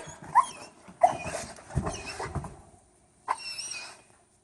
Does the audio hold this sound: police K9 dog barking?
yes